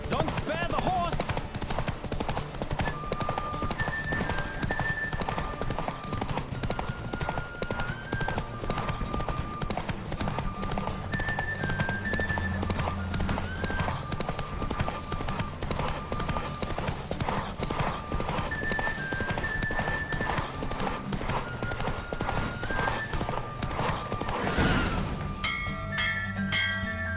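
A horse gallops hard through a race in The Witcher 3 on PlayStation 5, its quick hoofbeats driving continuously under game music with chiming tones, ending in a brief boom near the finish.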